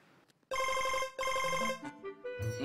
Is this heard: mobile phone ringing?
yes